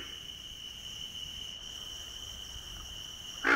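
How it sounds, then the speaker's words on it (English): A chorus of cricket frogs trills continuously in the background, a thin high sustained buzz steady throughout, with a brief louder burst near the end. "Its single grunt can be heard in the background of a chorus of cricket frogs."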